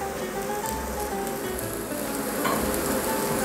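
Mushrooms searing in a hot pan with a little oil, a steady close sizzle and crackle that runs unbroken throughout with no voices.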